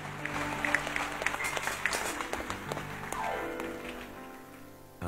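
A church congregation applauds during a worship service, a dense wash of clapping that stays steady for several seconds before easing near the end, with a faint voice underneath.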